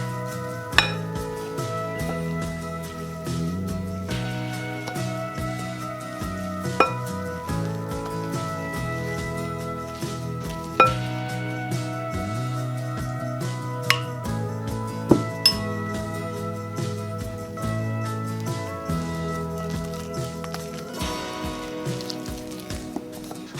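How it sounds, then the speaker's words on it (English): Dry muffin ingredients, including arrowroot starch, being mixed together in a bowl: light, irregular clinks and scrapes of a utensil against the bowl sit under steady background music throughout. "Let's mix this all together."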